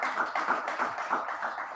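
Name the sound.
audience applause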